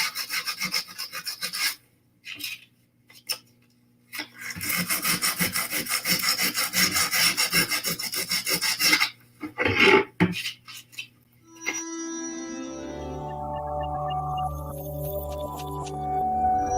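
Sandpaper rubs back and forth across a wooden surface in quick, rhythmic strokes with short pauses between bursts, close and fairly loud, before the scraping stops and a steady tonal hum takes over near the end.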